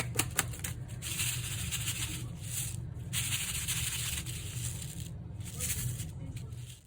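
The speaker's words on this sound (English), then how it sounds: "And I love the shaker bit noise" Small loose shaker bits rattle inside a handmade jellyfish shaker card as it is shaken, a continuous close, busy patter of light clicks and rustles lasting several seconds.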